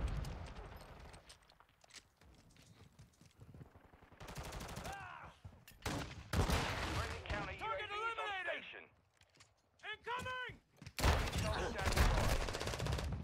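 Bursts of gunfire from akimbo snake shot pistols in Call of Duty Modern Warfare 2 multiplayer, loud sharp volleys separated by quieter gaps, mixed with game effects and occasional talk.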